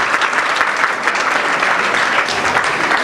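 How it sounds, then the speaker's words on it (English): Wedding guests applauding the couple, a steady, dense round of clapping from a roomful of people lasting a few seconds. "If anyone can give them a round of applause"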